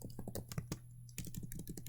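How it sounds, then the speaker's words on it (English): Rapid keystrokes on a computer keyboard while code is entered, a burst of clicks, a short pause, then another run of steady typing, close and fairly quiet. "So we can type,"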